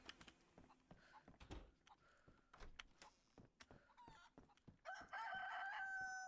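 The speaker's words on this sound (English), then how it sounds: "That chicken." A rooster crows loudly in a DayZ-style survival game set in Chernarus, a sustained tonal call rising near the end over scattered clicks and game noises; no one speaks.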